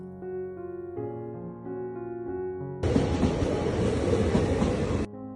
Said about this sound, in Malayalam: കുറച്ച് കഴിഞ്ഞപ്പോൾ ഞങ്ങൾ പോകാനുള്ള ട്രെയിൻ വന്നു.